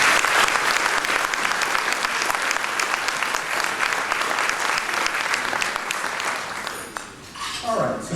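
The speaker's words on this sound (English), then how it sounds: "I think IFI deserves a round of applause for that work" Loud, dense applause from a large crowd fills the room, fading briefly near the end before a final burst.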